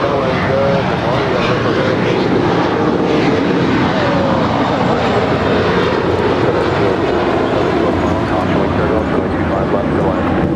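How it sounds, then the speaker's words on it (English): An airliner departs runway 25 right at LAX with a loud, steady, broadband engine roar that holds continuously throughout, and no voices are heard. "We'll have a departure on 25 right coming up."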